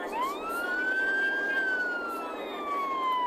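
A wailing police car siren in a video game, one continuous rising and falling tone that sounds loud and close and runs the whole length with nothing else over it.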